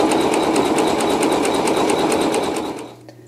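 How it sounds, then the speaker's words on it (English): An embroidery sewing machine bastes fabric down with water-soluble thread, stitching in a fast, loud, steady rhythm close by before slowing and stopping near the end. "we will use water soluble thread and baste down this fabric"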